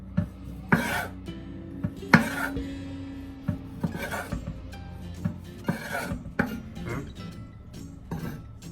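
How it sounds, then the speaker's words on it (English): A knife slicing beef sausage diagonally on a board, with a series of separate scraping, rasping cuts and sharp knocks at an uneven pace, close and clear, with no talking. "I'm gonna cut the sausage"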